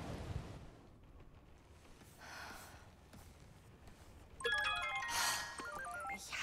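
A phone rings out with a stepped electronic ringtone melody while calling MJ in the Spider-Man 2 video game, starting after a quiet stretch and sounding loud and close, with no talking.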